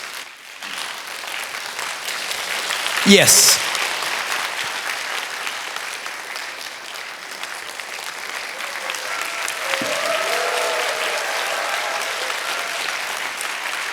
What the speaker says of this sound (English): Give headmaster some love. That means applause.